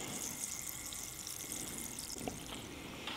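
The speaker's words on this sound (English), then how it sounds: "Water is making too much sound." Fizzy water pours and fizzes in a steady, close hiss of bubbling liquid that runs throughout without pause, with a brief splash near the middle.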